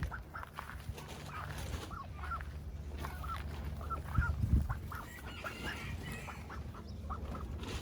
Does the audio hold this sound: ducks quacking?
yes